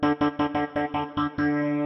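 A funky Rhodes electric piano patch in the Avenger synth, processed with a phaser effect, plays about seven rhythmic staccato chords and then ends on a held, swirling chord, loud and close with no voices.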